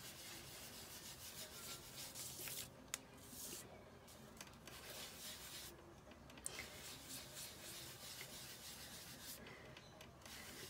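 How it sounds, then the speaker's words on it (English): Ink in a light saffron shade is rubbed across glossy cardstock for a faux mother-of-pearl effect, producing quiet, steady scraping strokes that repeat for the whole stretch with no talking. "you just rub it over your glossy cardstock"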